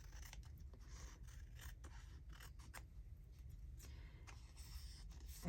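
Scissors trim a paper journal card, snipping and scraping quietly at close range in a rapid series of short, uneven cuts with brief pauses between them.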